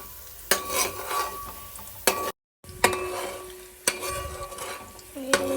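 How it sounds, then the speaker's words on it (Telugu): Onions stirred in a hot pan for chicken biryani: steady sizzling with scraping spoon strokes and occasional clinks against the metal, close and alone, broken by one brief silent gap. "ఇప్పుడు నేనైతే ఉల్లిగడ్డ కలుపుతున్నాను"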